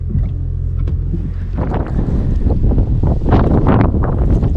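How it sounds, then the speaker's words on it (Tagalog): Strong wind in snowy Finland buffets the microphone in loud, gusty rushes, growing rougher toward the end, with no voices. "Lakas ang hangin."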